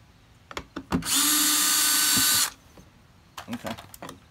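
Power screwdriver backing out screws from a Honda Pilot center armrest handle, one loud sustained whir of about a second and a half, with softer clicks and handling sounds before and after.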